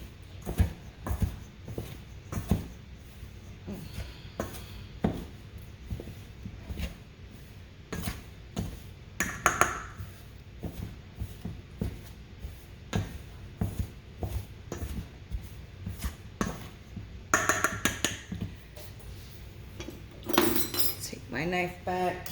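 A fork or knives work cold butter into buttermilk biscuit dough in a bowl, making repeated light metallic taps and scrapes in an uneven rhythm while a person talks throughout.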